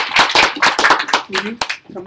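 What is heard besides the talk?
audience applause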